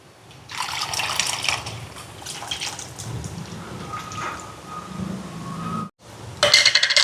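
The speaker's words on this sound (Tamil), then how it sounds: "புளியை சேர்க்குறேன்." Soaked tamarind water is poured into a karuvadu (dried fish) curry, a steady close trickle and splash lasting several seconds, briefly broken before a final louder gush.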